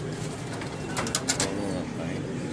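Caged pigeons of a pearl-eyed breed coo softly and repeatedly at close range, with a brief burst of brighter calls in the middle over a steady background murmur.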